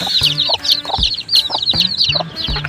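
Chickens, including a rooster and young chicks, cluck over and over in a farmyard. The calls come as short, close, repeated bursts, with bright chirping woven through them and no talking.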